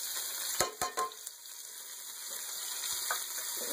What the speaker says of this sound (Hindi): अभी तो हम प्याज डाल रहे हैं फिर हम गोल्डन ब्राउन करेंगे